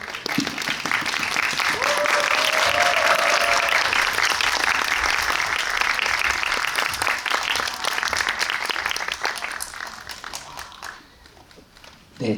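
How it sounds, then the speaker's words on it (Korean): A large audience claps loudly and steadily as a film director and actors walk onto the stage at a screening Q&A. The applause holds for about ten seconds, then thins out. A brief cheer rises near the start. "입장하실 때 큰 박수로 환영해 주시면 감사하겠습니다"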